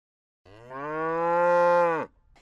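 A cow gives one long, loud moo that rises and holds before breaking off abruptly, clear and close with quiet before and after.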